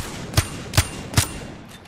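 Gunfire in the Apex Legends video game: three evenly spaced, punchy shots, each a sharp crack with a low thump, over a steady background hum, moderately loud.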